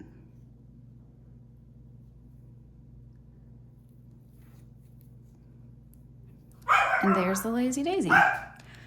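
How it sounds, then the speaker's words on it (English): A pet dog barks a short burst of loud, close barks after a long stretch of quiet hum in a home where embroidery is being stitched, overlapping with a person talking. "Sorry about my dog barking."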